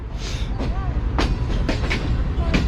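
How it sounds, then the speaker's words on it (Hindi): The Green Line Express pulls slowly out of the Rawalpindi rail yard at yard speed, steady rolling rumble with soft clacks of wheels over track switches, a faint squeal and a voice talking over it. "काफ़ी आराम से ट्रेन जो है वो डिपार्ट कर रही है यार्ड स्पीड को फॉलो करते हुए।"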